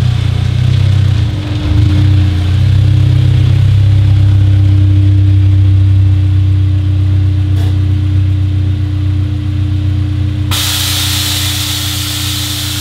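Honda S2000 engine idling steadily and close by as the car rolls into a garage, a constant low rumble with no voices.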